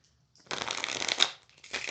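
Tarot cards being shuffled by hand, a close, continuous riffling flutter that starts after a brief silence, pauses for a moment, then picks up again.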